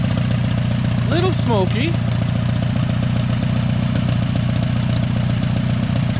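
An old, cheap tractor engine with no muffler idles steadily with a low, even chugging rumble throughout, close by, while someone briefly speaks over it.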